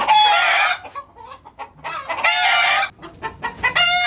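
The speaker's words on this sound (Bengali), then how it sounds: "সেই হিলি মুরগি দেখেন এটা আমার খামারে নতুন সংযোজন" Hili chickens, a BLRI breed, cluck and squawk loudly nearby in repeated bursts, with shorter clucks scattered between the louder calls.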